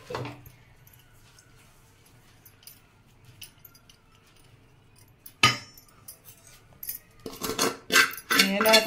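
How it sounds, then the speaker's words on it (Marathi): Hot steamed rice flour dough scraped and transferred from a pot into a metal plate, with clanking and scraping of a metal spoon against the vessels, sparse at first and then busier and louder toward the end. "तर आता मी हे ताटामध्ये काढून घेते"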